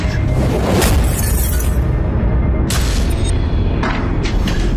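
A mosque structure in Gujranwala district, Pakistan, breaks apart after sledgehammer blows, a loud sustained crash of shattering and crumbling debris with several sharp bursts over a rumbling roar.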